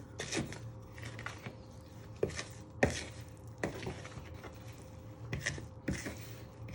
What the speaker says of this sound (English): Now you're going to add in your melted butter to all your dry ingredients and sugar. You want to give that a little bit of a stir.